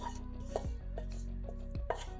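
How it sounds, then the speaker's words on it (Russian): Knife blade chopping dill on a cutting board several times in a steady rhythm, close and crisp, with a faint background hum and no voices. "Мелко нарезаем пучок укропа."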